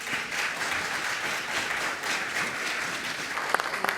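An audience applauds the performers of a staged theatre production, Los amores de Sor Juana, with dense, continuous clapping heard at a moderate distance and a few sharper individual claps near the end.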